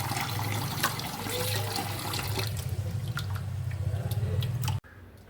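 Tap water runs over liver being washed, a continuous splashing stream with small drips and trickles close by, cutting off abruptly near the end.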